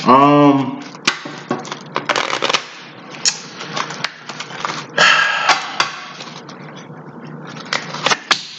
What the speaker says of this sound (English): Let's just deal the cards first.